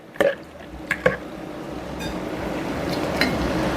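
Water poured from a container into a cooking pot of fish for Cambodian fish and mango soup, beginning with a few close drips and splashes, then settling into a steady soft gurgling pour.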